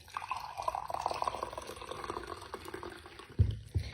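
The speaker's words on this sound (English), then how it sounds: "I'm gonna pour my coffee in." Coffee pours from a container into a cup, a soft trickling fill of liquid that rises in pitch, ending with a few louder knocks.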